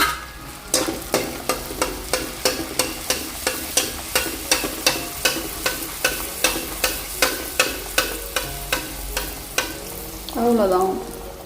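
Puri frying in hot oil as it puffs up, with a rhythmic series of regular clicks or taps throughout and a short bubbling swirl near the end, fairly close with no talk.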